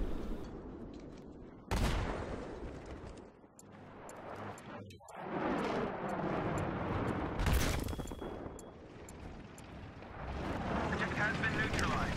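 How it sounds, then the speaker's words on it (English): Tank battle in Battlefield 3 with heavy gunfire and loud explosion blasts, dense and continuous, with sharp bursts standing out over a rumbling background and voices talking throughout. "From the sight and sound of it, there's a tank battle at D"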